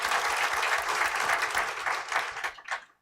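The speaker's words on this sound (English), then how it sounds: "Give yourselves a round of applause for being out here on Friday." Audience applause at an evening conversation event with Karine Jean-Pierre, a dense burst of steady clapping from a crowd that tapers off quickly over a few seconds.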